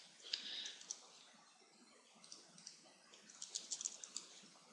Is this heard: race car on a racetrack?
no